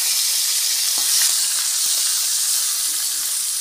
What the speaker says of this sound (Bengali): তো দেখো আমি এইদিকে মাছটা ভেজে নিচ্ছি।